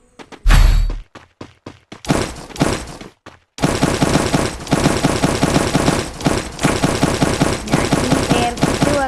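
Gunfire in the video game Free Fire: a heavy blast and a few single shots, then long rapid automatic bursts with short gaps, loud and close.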